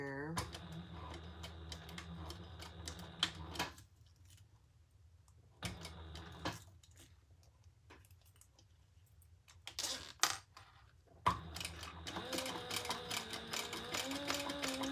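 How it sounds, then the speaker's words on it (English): A sewing machine stitches across a leather zippered pouch in fast rattling bursts, stopping and starting with quiet gaps between runs, close and fairly loud. "And let's sew across the whole thing here."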